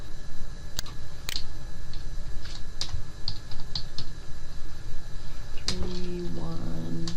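Computer keyboard keys tapped in short bursts as dates are entered into an Access report prompt, sparse clicks over a steady background hum, with a brief tonal beep near the end.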